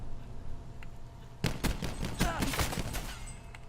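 Auger DMR firing in a shooter game, a quick run of sharp, close gunshots after a quiet lead-in, each crack followed by a short echoing tail.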